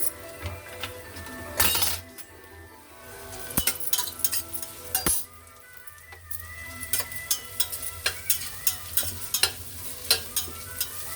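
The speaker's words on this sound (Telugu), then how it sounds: "పచ్చిమిరపకాయలు వేస్తున్నాను." Green chillies frying with onions in a pan, a steady sizzle broken by irregular clinks and stirring scrapes of a utensil against the pan, close and fairly busy throughout.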